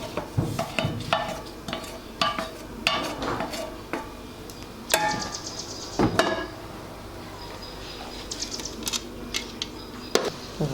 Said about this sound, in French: Là, je mélange mes légumes avec ma viande.